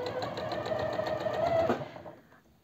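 A domestic sewing machine stitches a seam on a vest with a presser foot and seam guide, running as a steady fast rhythmic whir at close range before slowing and stopping near the end.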